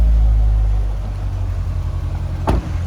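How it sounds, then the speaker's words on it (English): 2019 Chevrolet Corvette Stingray coupe, 2LT with 7-speed, its engine idling nearby: a steady low rumble, briefly interrupted by a short sharp noise near the end. "So let's just hop out with the car running and have a look and a listen."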